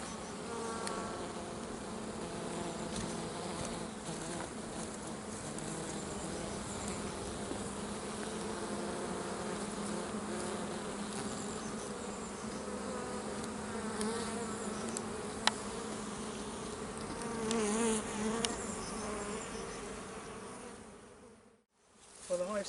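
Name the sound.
honey bees buzzing around hive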